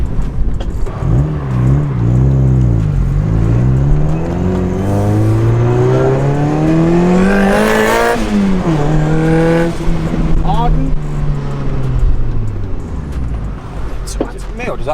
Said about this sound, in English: I heard the turbo.